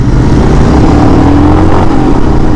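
A 2022 Royal Enfield Himalayan motorcycle engine runs loud and steady while riding in third gear at about 60 km/h and 4,500 RPM. A continuous throaty drone mixes with wind rush and no voices.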